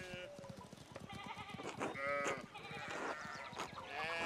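Sheep bleat repeatedly in the medieval game Pentiment, several wavering calls overlapping over a busy farmyard backdrop of thumps and clatter, with other voices mixed in.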